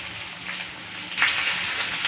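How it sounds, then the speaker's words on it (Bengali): Garlic sizzling in oil in a wok, a steady close hiss that grows louder and brighter partway through, with no voices. "তেলের উপরে প্রথম দিয়েছি রসুন রসুনটা তেলে ভাজলে একটা দারুণ ফ্লেভার আসে"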